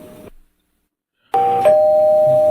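Doorbell chime sounding two loud, clear tones, the second held and ringing out; a short burst of indoor noise comes before it, followed by a second of silence.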